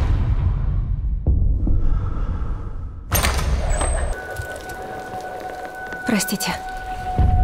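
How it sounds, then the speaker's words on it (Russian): Heavy downpour rain pours down steadily as a loud, dense hiss throughout, with a sharp crack partway through and some faint tonal sounds over the constant rainfall. "Там на улице страшный ливень."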